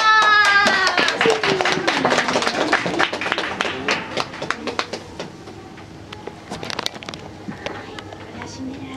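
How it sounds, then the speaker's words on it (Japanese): Applause from an audience inside the Cinderella Castle Mystery Tour walk-through attraction at Tokyo Disneyland: dense, sustained clapping that starts strong and slowly thins out, with a host's voice speaking over it. "さあ皆さん、からずにもう一度大きな拍手を送ってください。"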